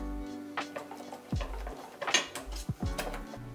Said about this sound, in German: Siebt nun Kichererbsenmehl in den Joghurt und rührt alles zu einer homogenen Masse.